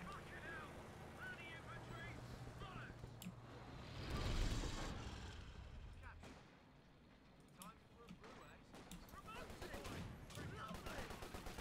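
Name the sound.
mortars firing in Company of Heroes video game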